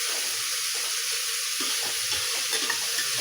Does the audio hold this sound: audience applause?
no